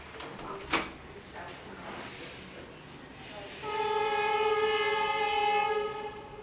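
A train passes in the background, sounding a steady horn that holds for a few seconds at moderate distance after a brief knock nearby; no one speaks.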